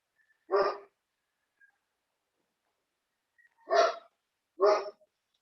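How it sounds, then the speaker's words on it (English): A Great Dane barking somewhere in the background: one single bark, then a pause, then two more deep barks in close succession, each short and distinct against an otherwise quiet room. "is there a dog or something in the background?"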